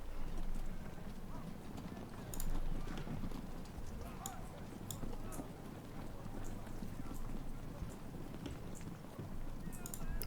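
Horse hooves clip-clop in a steady stream amid the Civil War battle soundscape of Ultimate General: Civil War, with mounted cavalry moving near a river crossing, overlaid by continuous game ambience and a voice talking throughout.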